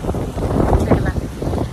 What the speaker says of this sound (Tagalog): Sobrang mahangin pa rin.